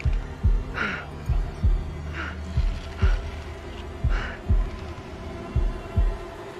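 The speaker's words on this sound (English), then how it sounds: "Okay, heartbeat, heartbeat." Heartbeat effect from the horror game Little Hope, a steady double-thump pulse repeating about ten times, deep and close, with a faint low hum underneath and no talking.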